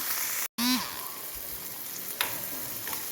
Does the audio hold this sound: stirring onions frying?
yes